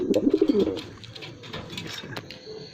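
Pigeons give a close, rhythmic burst of throaty cooing pulses, then fainter coos and rustling follow.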